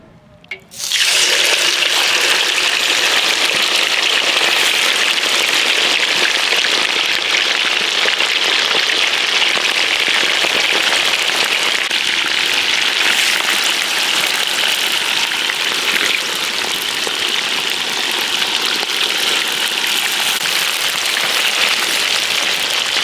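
Rabbit meat hits very hot oil in a kazan for Uzbek kazan-kabab, bursting into a loud, dense, continuous sizzle that holds steady without letting up.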